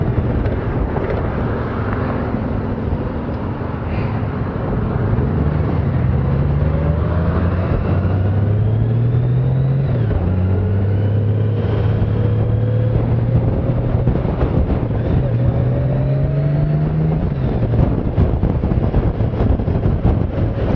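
A 2018 Honda Gold Wing rides along with a smooth engine note rising and falling through gear changes, all under constant rushing wind.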